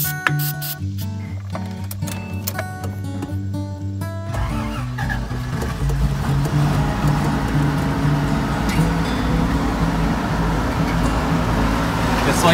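A 1986 Toyota FJ60 Land Cruiser engine turns over and catches, then settles into a loud, close, steady running rumble that continues to the end.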